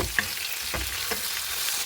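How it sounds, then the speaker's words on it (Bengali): A hilsa fish head fries with fried onions and chopped vegetables, a soft, continuous sizzle broken by a few sharp scrapes of a spatula, heard close with no voices. "দিয়ে দিলাম মাছের মাথা"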